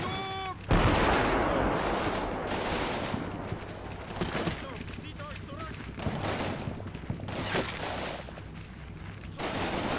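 Gunfire crackles through a video game battle in a sustained fusillade: dense rifle and machine-gun bursts with heavier booms, loud and continuous, with a few whistling tones partway through.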